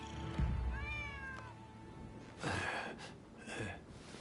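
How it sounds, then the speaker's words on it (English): A stray cat meows several times in the Rise of the Ronin video game, a longer rising call followed by two shorter, clear meows, fairly close and loud over a low game backdrop. "Who'd have thought a stray cat would wander in?"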